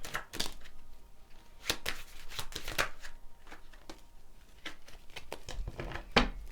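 Tarot cards are shuffled in quick riffling bursts, crisp and close, with short pauses between flurries and no talking.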